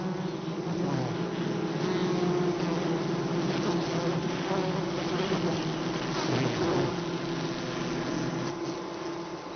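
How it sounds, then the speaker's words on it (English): A mass of Japanese honeybees swarms onto a hornet and balls around it, giving a dense, continuous buzzing hum that stays loud and steady throughout, with no voices. "Suddenly a few bees jump onto the hornet. Others move in to engulf it in a dense ball."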